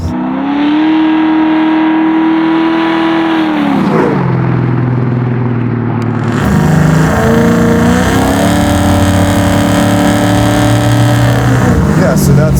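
A 750-horsepower LS9-engined Chevrolet Chevelle accelerates hard and loud, its engine note climbing through several gear changes with deep, continuous roaring throughout.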